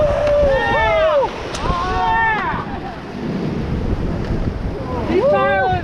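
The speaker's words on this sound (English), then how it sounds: "All the way through the big waves." Rushing whitewater and crashing waves as a raft pushes through big rapids in the Gorge, steady loud water and wind noise throughout, with people shouting and calling out over it.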